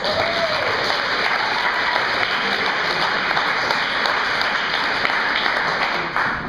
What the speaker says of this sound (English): So let's give Karen a big round of applause